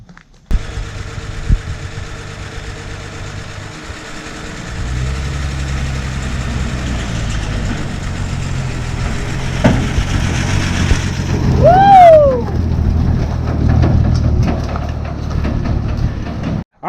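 Classic Ford F100 pickup truck, parked for 40 years, with its engine running steadily as it drives down a driveway. Near, continuous low rumble throughout, with a squeaky rising whine partway through.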